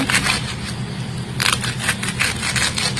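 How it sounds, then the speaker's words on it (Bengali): Fresh young spinach greens being chopped with a knife for a stir-fried spinach dish, giving repeated crisp crunchy cuts in a steady rhythm, close and fairly loud, with a brief burst of quicker chops midway and no talking. "এখানে আমি কচি করে করে শাকটা কেটে নিয়ে নেব।"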